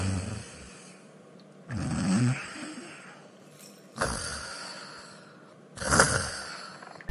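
A person snores in about four separate rasping bursts spaced a second or two apart, each rising and fading, with quiet breathing gaps between them in an indoor animated scene.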